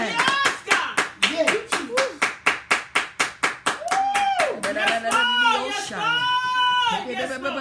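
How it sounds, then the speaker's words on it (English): A congregation claps in a fast, even rhythm for about four seconds, each clap loud and distinct, then voices rise, shouting and singing over the fading claps. "Somebody better clap your hands"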